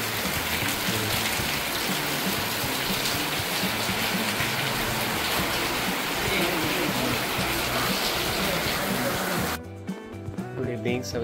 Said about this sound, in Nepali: बाहिर चाहिँ यसरी पानी परिरहेको छ शीतल भइरहेको छ